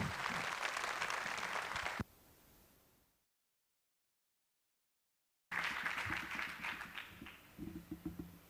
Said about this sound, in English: So please, a big round of applause for Valeria Mazza.